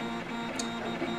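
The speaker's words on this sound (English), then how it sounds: "we're printing our first test cube at 20 millimeters" 3D printer driven by a Smoothieboard printing a 20 mm test cube, its stepper motors giving a steady whirring hum with a faint high whine, continuous and close.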